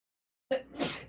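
A single sharp sneeze close up, starting with a quick intake and ending in a breathy burst, after a moment of silence.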